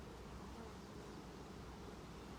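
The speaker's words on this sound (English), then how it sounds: "We're getting a lot of bees in here." Honeybees swarm around an open beehive during a brood inspection, a steady dense buzz that stays even and close throughout with no voices.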